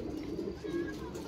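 Flying pigeons at a Pakistani fancier's loft give low, rolling coos across the moment, close and continuous, with a faint trace of background noise and no clear talk.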